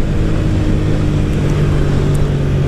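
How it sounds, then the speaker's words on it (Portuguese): Loud, steady engine drone of a Honda Titan 160 motorcycle riding along with an air filter fitted, low rumble with constant wind noise and no talking. "E minha moto tá andando bem"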